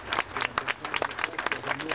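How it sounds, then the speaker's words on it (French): Crowd at a rally in support of Aung San Suu Kyi applauding in scattered, uneven bursts of clapping over two seconds, moderately distant and fairly faint. "Je vous remercie, on peut applaudir."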